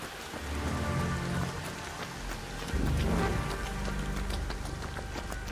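Steady rain in the video game Marvel Rivals, a dense continuous hiss of drops on surfaces with low rumbling game sounds beneath, fairly loud and even throughout.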